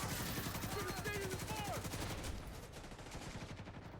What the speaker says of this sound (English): He's about to start firing grenades at me.